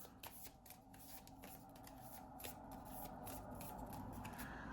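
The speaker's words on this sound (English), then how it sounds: "then shuffle your prize cards" Pokemon TCG prize cards get shuffled by hand in a continuous soft riffling patter, close but quiet, without any talk.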